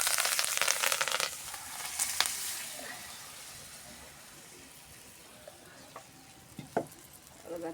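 Mustard seeds splutter and fry in hot oil for a fish curry, a brief crackling sizzle at first that fades into quieter scattered pops and faint stirring.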